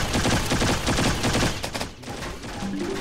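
A SCAR rifle in Left 4 Dead 2 fires in a fast, loud continuous burst, then stops, followed by quieter mechanical clicks and clatter of a reload.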